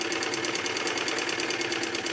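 Sewing machine stitching the lining of a baby frock, a steady fast mechanical whir with a rapid regular needle rhythm running continuously and close by, with no talk over it.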